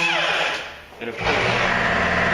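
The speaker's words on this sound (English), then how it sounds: "air compressor." An air compressor runs in a bodywork shop beside a Ford Ranger pickup bed, starting up partway through and settling into a steady, close mechanical hum.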